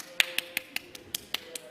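A lone person clapping at a workshop event, about eight sharp, evenly spaced hand claps, close and fairly quiet, with no voices.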